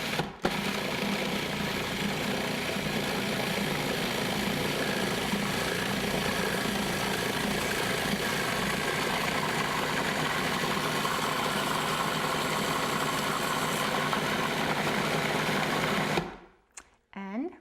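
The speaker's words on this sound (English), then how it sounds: "So now we're going to add the oil very slowly while the machine is running." A food processor runs continuously while oil is poured in for pumpkin seed pesto, producing a loud, steady motor whir that stops abruptly near the end.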